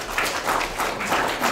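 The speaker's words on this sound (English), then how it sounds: "So let's give a round of applause for her" Audience clapping after a talk at a tech meetup, a short, moderately loud burst of many hands pulsing in slight waves.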